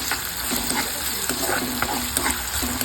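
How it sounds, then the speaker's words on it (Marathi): Grated ginger and garlic stirred into frying onions in a pan, a soft steady sizzle broken by repeated scraping strokes of a spoon at a quick, uneven rhythm. "आता ह्यात आपण ॲड करूयात आलं आणि लसूण, जे आपण किसून ठेवलेलं, आणि ह्याला व्यवस्थित मिक्स करून घेऊया"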